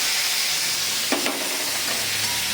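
A spoon stirs spices frying in oil in a pan for a Bengali vegetable fry, a continuous close sizzle with a brief scrape of stirring near the middle and no voices.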